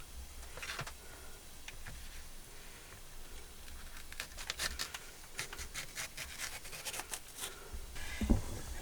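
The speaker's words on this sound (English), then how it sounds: "Then I like to cut off these lighter parts." A knife works through a large bell pepper on a cutting board, trimming off its lighter inner parts with a series of soft, close scraping and tapping strokes.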